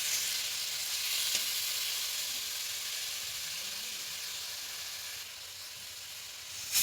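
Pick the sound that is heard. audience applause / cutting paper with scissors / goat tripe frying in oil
goat tripe frying in oil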